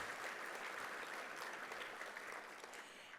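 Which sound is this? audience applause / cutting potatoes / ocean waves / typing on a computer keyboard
audience applause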